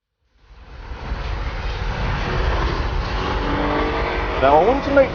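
An Alfa Romeo GTV6 coupe's engine fades in and builds to a steady, loud drone, with a brief rising rev near the end.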